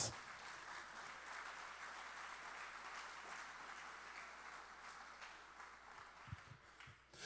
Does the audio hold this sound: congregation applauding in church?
yes